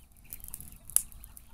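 Young roosters and other chickens in a backyard pen at night cluck softly and intermittently, with one sharper squawk near the middle, faint against a quiet background.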